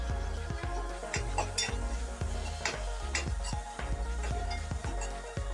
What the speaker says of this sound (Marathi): आलं लसूणची पेस्ट सुद्धा या तेलामध्ये छान अशी परतवून घ्यायची आहे।